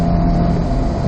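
C8 Corvette engine running in 3rd gear on a race track, a brief loud steady in-car engine roar with a low rumbling hum.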